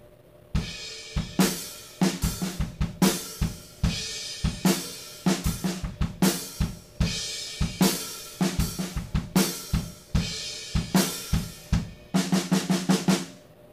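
Rock drum kit playing a chorus-style groove, with steady kick and snare hits, washy open hi-hats and crash cymbals; loud and close, continuous, with a dense fill of hits near the end.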